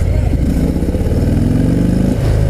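A Harley-Davidson FXDR 114 motorcycle on a test ride on the road gives a loud, continuous throbbing engine rumble that holds steady, with a slight change in tone near the end.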